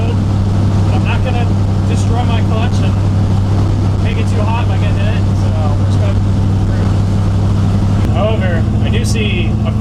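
A Ford F100 pickup with a Tremec 5-speed manual gearbox cruising along a straight rural road, its steady engine hum droning constantly from inside the cab while someone talks over it.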